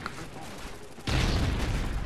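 SA-80 rifle in the Call of Duty Ghosts video game, a sustained burst of automatic gunfire that starts abruptly midway and continues loud and dense after a stretch of quieter in-game noise.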